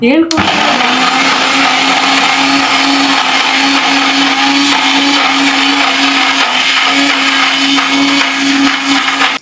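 A mixer grinder (mixie) whirs loudly and steadily from start to finish, a strong, close motor drone with a constant pitch, in a home kitchen where carrot jamun are being made.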